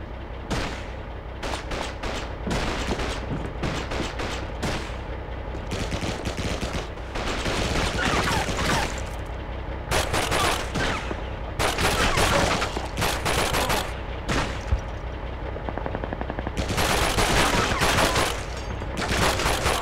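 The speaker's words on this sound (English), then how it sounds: "Enemy fire!" Machine gun fire in the war video game Call of Duty 2: Big Red One, a sustained barrage of loud rapid bursts and scattered shots with distant booms, continuing over nearly twenty seconds.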